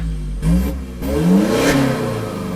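Isuzu D-Max 1.9 pickup engine revving through its exhaust, close and loud, with a short low idle rising into two sustained throttle blips that climb and fall.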